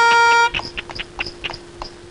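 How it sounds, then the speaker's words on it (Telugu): A car horn blares in one loud, steady blast lasting about half a second on a street where a car is stuck behind someone in the way, then gives way to quieter scattered knocks and clatter. "హార్న్ మోగుతుంటే వినపడలేదు."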